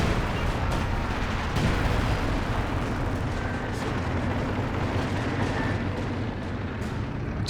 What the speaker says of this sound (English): Looks like maybe to a Katyusha barrage.